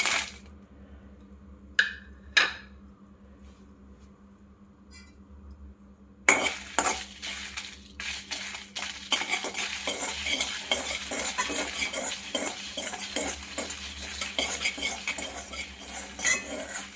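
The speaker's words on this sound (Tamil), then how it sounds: "இந்த சவுண்டு வர வரைக்கும் மிளகா நல்லா வறுத்து எடுத்துக்கணும்" Dry red chillies are roasted in a kadai, starting with a few sharp metallic clinks over near silence, then a stirring spoon scrapes and taps the pan in a busy, rhythmic clatter with a dry crackle, and no talking.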